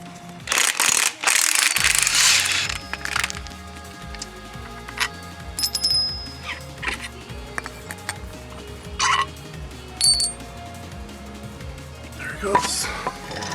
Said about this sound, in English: To remove the compliance bushing, you have to take off this nut. I believe it's a 19mm.